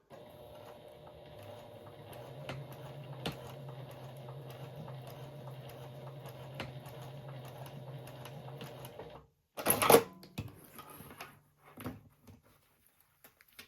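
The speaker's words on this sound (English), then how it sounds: "then I'm going to sew." A sewing machine stitches fabric for a small drawstring basket, running in a faint, steady whir for several seconds. It stops, and a few louder handling clatters and bumps follow.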